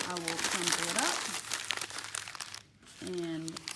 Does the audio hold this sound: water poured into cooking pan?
no